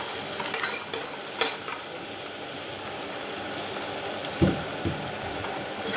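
Chopped bell pepper stir-fries in a hot pan with a continuous close sizzle and a few clanks of a spatula against the pan.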